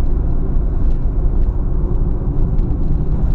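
A 1986 Renault Supercinq TC with its 1.0-litre 42 hp engine runs while driving, a steady low engine drone and road rumble heard from inside the car, loud and continuous.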